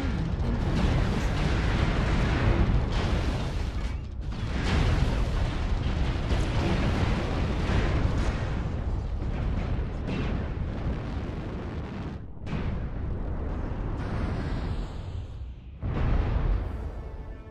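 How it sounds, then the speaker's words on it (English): Missile explosions in the MechWarrior Online video game, a dense, continuous barrage of booming blasts and rumbling impacts, loud and sustained, with a few brief gaps between volleys. "Warning incoming missile."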